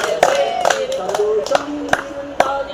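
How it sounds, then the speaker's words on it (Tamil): Hands clap in a steady rhythm, about two claps per second, alongside a Tamil action song, with sung melody running beneath the sharp, close claps. "சந்தோஷம் இருந்தால் கைத்தட்டு"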